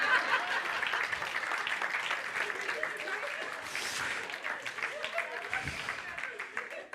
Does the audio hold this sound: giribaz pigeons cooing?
no